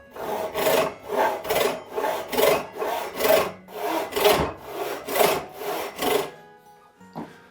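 A hand saw resaws a board clamped in a bench vise, with about a dozen rhythmic rasping push and pull strokes and a slight chatter, close and alone, ending in a small knock.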